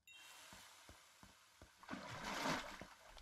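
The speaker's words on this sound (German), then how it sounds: "Ja, gießen wir das hier, komm." A watering can pours over plants in the video game Deiland: faint soft water splashing swells in the second half, after a few quiet rhythmic clicks, all at low volume.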